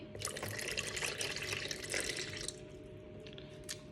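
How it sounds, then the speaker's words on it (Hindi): Warm milk poured into a bowl of dough mixture with cracked egg, a soft continuous liquid pour for a few seconds that tapers off into quieter drips, faint and close. "एग क्रैक करने के बाद हम इसमें 1 कप वार्म मिल्क डालेंगे।"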